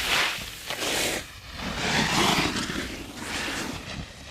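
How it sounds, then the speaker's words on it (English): Skis running across soft, chalky snow, a series of swelling, soft swishing sweeps in uneven rhythm, close and moderately quiet, no talking. "Now that was the sound of nice chalky snow."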